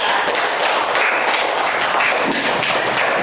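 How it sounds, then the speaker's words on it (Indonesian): Classroom applause for a student group during a lesson, close, dense clapping from many pupils that stays loud and even throughout, with no talking over it. "Beri tepuk tangan lagi untuk kelompok 3."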